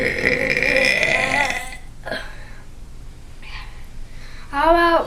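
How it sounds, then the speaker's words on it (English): A long, loud, drawn-out human burp rumbles close to the mic for nearly two seconds, then after a quiet gap with small breaths, a second shorter, forceful belch erupts near the end. "I'm just gonna burp and think about it."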